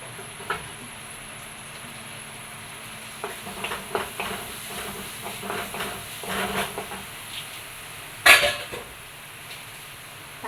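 Chopped green chillies frying in a pan while being stirred, a quiet steady sizzle with scattered scraping clicks of the spoon and one sharper metallic knock.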